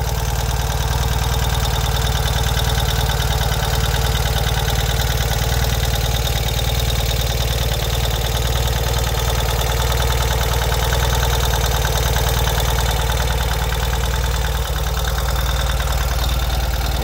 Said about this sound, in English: you are going to hear additional engine noise when it's cold